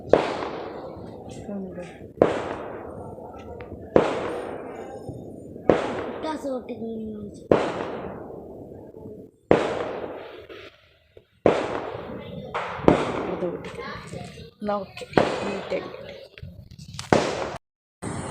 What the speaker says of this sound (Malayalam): അപ്പോഴത്തേക്ക് പടക്കം കൊണ്ടുവന്നു, ബോംബ് കൊണ്ടുവന്നു. അപ്പം അത് പൊട്ടിച്ച് 10 മണിയായി.